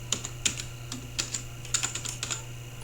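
Fingers typing a password on a computer keyboard, a quick run of light key clicks in short irregular bursts over a steady low electrical hum, with no talking.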